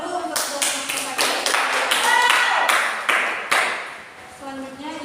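Classroom of fourth-grade pupils clapping together after classmates present, a dense burst of hand claps with sharp taps, filling most of the clip before fading, with a teacher's voice briefly heard at the start and end.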